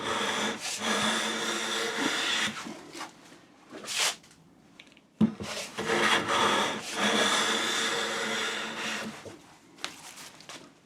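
A hand plane takes thin wispy shavings from a wood board in long rasping strokes, several passes separated by short pauses, loud and close, with a light knock between strokes.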